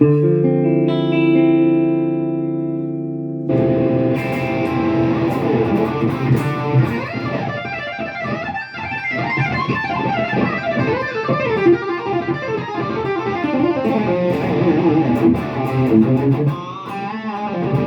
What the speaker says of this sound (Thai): เสียงแตกไม่ต้องพูดถึงเลยมันมันง่าย